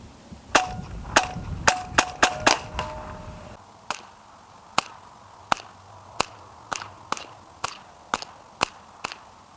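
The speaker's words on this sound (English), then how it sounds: "This, by contrast, is a semi-automatic air rifle." A Hatsan Barrage semi-automatic air rifle fires about fifteen sharp, snappy cracks in quick, uneven succession, a few closely spaced shots at first with metallic ringing, then a steadier string at roughly half-second spacing, close and loud with no talk.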